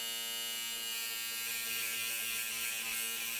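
A Panasonic Close Curves wet/dry women's electric shaver runs with a steady, high buzzing whine, close and unbroken for the whole stretch with no other sounds.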